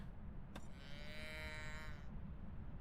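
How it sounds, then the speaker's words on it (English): A mooing cow toy in the video game Phasmophobia lets out one drawn-out, wavering moo of about a second and a half, heard alone over a low steady background hum. "Okay, so it's a moo cow."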